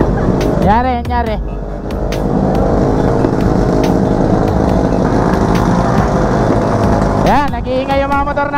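Loud-exhaust motorcycles rev hard at a New Year's street gathering, with two sharp rising throttle sweeps near the start and end over a steady, close engine roar, and people talking underneath.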